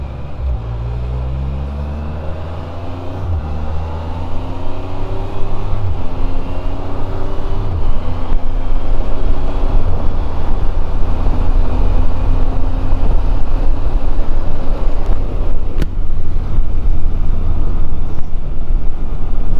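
Can-Am Spyder three-wheeler engines pulling hard under acceleration, a steady loud close drone with rising engine tones as speed builds, no talking.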